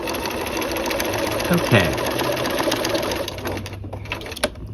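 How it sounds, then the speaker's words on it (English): A sewing machine stitching the seam of a dual-flap pocket hums in a continuous close whir, then slows and stops near the end, with a voice speaking briefly over it. "we have one seam sewn"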